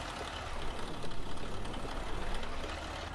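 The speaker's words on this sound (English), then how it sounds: "And I'll slowly bring the tractor back." Semi truck tractor engine in American Truck Simulator, idling while reversing slowly, with a steady low rumble and a knocking pulse that swells slightly, heard up close without voices.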